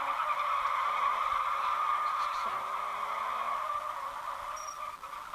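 A driving video game with a snowy winter map, its car sliding on the slippery surface, producing a steady, loud skidding hiss with a faint engine tone underneath, continuous and alone without talk.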